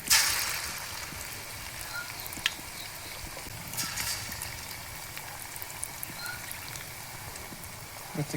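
Crushed, marinated chicken for dragon chicken fries in hot oil with a faint, steady sizzling hiss and scattered small pops. The sound is quiet and continuous throughout.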